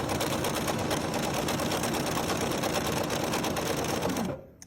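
Bernina sewing machine stitching at speed, a steady rapid mechanical whir with a fast needle clatter that runs loud and continuous before stopping abruptly near the end.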